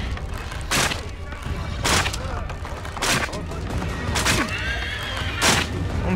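A horse whinnies in Assassin's Creed 3 gameplay, repeated loud neighs at roughly one-second intervals over dense game action noise with rumbling low sound throughout.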